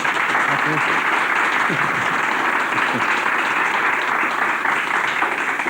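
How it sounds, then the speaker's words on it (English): A studio audience on a television health talk show applauds a guest, a thick, continuous roar of clapping at steady volume with faint voices mixed underneath. "Let's give him a round of applause."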